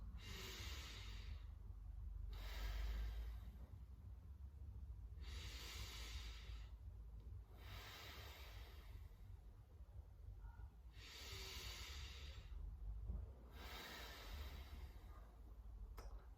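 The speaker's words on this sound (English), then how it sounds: "So that was quite a deep breath, but quite a normal deep breath." Six slow, deep breaths drawn in through the nose, each a broad airy rush lasting about a second and a half, separated by quiet gaps, close and steady with no talking.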